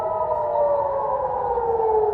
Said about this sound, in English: air raid sirens blared across Israel